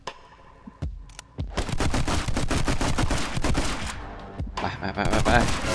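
Gunfire in the video game My Friend Pedro, with a few single shots followed by dense, rapid bursts of loud, close fire, briefly easing before another volley.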